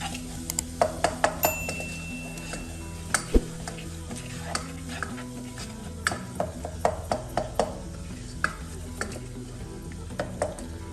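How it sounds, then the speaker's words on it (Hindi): Spices mixed into a tomato, onion, ginger and garlic masala in a pan for turnip meat curry: steady sizzling with repeated spoon clinks and scraping strokes against the pan, close and clear, no voices. "तो चलिए अब ये सारे मसाले हम ऐड कर देंगे अपने टमाटर प्याज अदरक और लहसुन के इस मसाले में और इनको कर लेंगे मिक्स"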